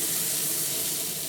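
Cod fillet pan-frying skin-side in hot oil, a steady close hiss of sizzling with fine crackle, unbroken across the brief moment.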